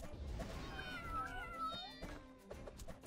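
Cats meow and yowl in sliding, warbling cries while attacking in the video game Strikeforce Kitty, several overlapping calls over a busy game soundtrack with short thuds.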